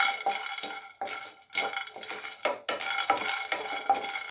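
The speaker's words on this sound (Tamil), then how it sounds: "இந்த வேர்க்கடலையை இதில் ட்ரை ரோஸ்ட் பண்ணிக்கலாம்." Peanuts dry roasting in a pan, stirred in repeated bursts of scraping and rattling, with short pauses between each pass. Close and moderately loud, with no voices.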